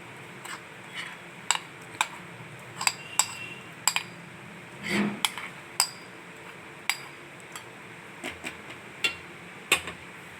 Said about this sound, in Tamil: இப்போது இந்த மிக்ஸ் பண்ணி வச்சதை எடுத்து நம்ம ஒரு கடாயில் போட போகிறோம்.